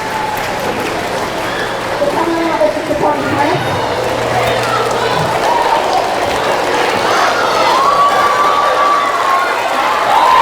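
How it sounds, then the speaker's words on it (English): A middle school audience of eighth graders applauds and cheers at a school presentation, continuous dense clapping with crowd noise throughout while someone speaks over it. "That deserves a round of applause"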